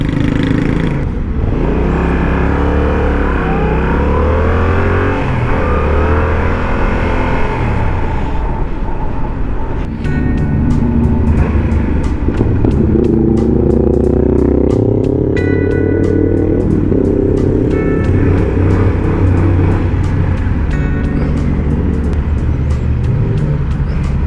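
A 2022 Yamaha R7 motorcycle engine under way, a loud throaty drone that climbs and falls through repeated revving and gear changes as it accelerates, heard up close against steady wind and road noise.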